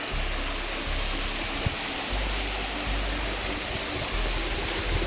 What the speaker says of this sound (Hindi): छोटा सा वाटरफॉल